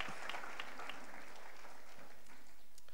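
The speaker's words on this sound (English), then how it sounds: "Clap your hands for them." Congregation at a church sermon claps hands together, a brief burst of steady applause filling the space, fairly soft and even throughout.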